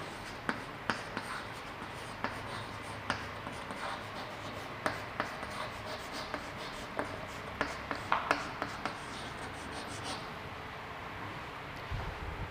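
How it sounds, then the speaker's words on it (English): Chalk or marker writing on a board in a lecture room, a series of sharp scratchy taps and strokes in irregular rhythm, moderately close with soft room hiss and no speech. "I can write it here"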